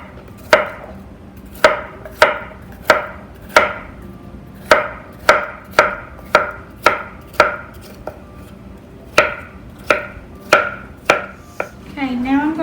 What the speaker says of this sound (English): So I'm just cutting this up into small bite-sized pieces